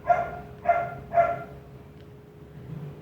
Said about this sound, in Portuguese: O cachorro da vizinha resolveu cantar agora, mas tudo bem.